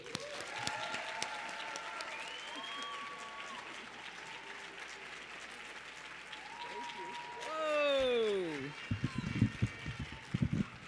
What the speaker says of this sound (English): a wonderful, wonderful round of applause